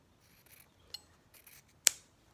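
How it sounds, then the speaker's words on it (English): Scissors cutting apart quilting fabric pieces: a few quiet, close snips building to one sharp, crisp cut near the end, with no one talking. "I need to cut this one apart"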